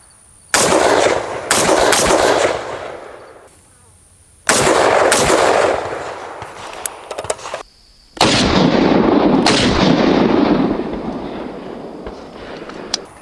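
Three loud, close gunshots from an FN FAL rifle fitted with a muzzle brake, spaced several seconds apart, each followed by a long rolling echo that fades out outdoors.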